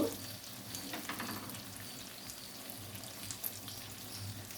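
Fish frying in oil in a pan, a steady close sizzle with soft crackles and a few brief pops, continuous throughout with no talking.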